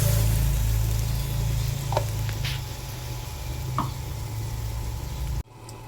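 Ginger, garlic, onion, green chilli and tomato fry in a pan for a prawn curry, giving a steady sizzle with a couple of faint stirring clinks, then cutting off abruptly near the end.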